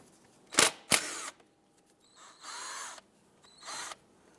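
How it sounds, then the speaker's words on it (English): Power tool with a 10mm socket loosens the brake flex hose bolt on a 2012-2017 Toyota Camry strut: two sharp bursts, then a few longer whirring runs separated by quiet pauses, close up. "Using a 10mm socket, remove the bolt here holding our brake flex hose to the strut."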